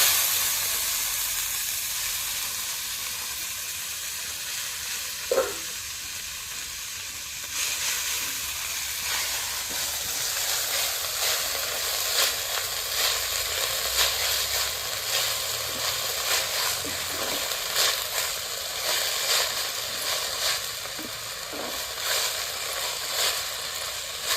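Mint leaves fry in hot oil for chutney, giving a soft, steady sizzling hiss that swells after a single light clink of a utensil and carries on evenly, faint and close.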